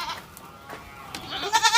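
Anglo Nubian goats on a backyard goat farm bleat in short wavering cries, one at the start and a louder one at the end, over faint farmyard background noise.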